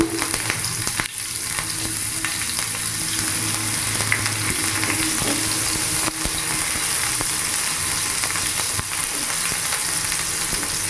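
Chopped ginger, garlic and green chili frying in hot oil, a loud continuous hiss of sizzling held close for several seconds, with faint stirring and a couple of brief clicks of the spatula.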